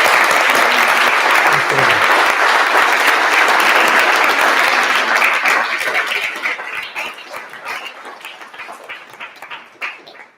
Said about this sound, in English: A big round of applause for Adam Thirlwell.